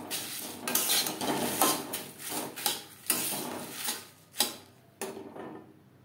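Bay leaves cut into pieces are stirred with spices in a kadai, giving a series of sharp metallic scrapes and clinks of a spatula against the pan, irregular and close, with no voices.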